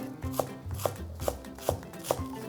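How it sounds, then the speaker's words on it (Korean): A knife thinly shredding cabbage on a cutting board, five evenly spaced crisp chops close by against a quiet background, no voices. "양배추도 적당히 그냥 채 썰어 쓰시면 돼요"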